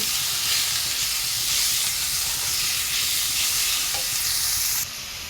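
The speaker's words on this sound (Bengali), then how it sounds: "এই চিংড়ি মাছটা বসাই দিচ্ছি" Prawns frying with onion in a pan make a loud, dense hiss and sizzle that stays constant, then drops suddenly near the end as the heat eases.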